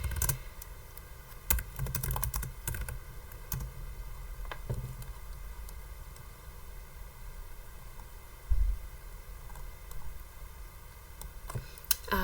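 Scattered keystrokes clatter on a computer keyboard, irregular taps and short bursts of typing at close range with quiet pauses between.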